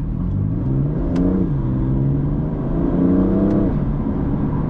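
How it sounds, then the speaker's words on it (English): A BMW with a DCT gearbox accelerates hard, its engine note rising steadily and then dropping sharply at quick paddle upshifts. Two distinct shifts punctuate the loud, close drone heard from inside the car. "the gear changes are fairly instant on the upshifts"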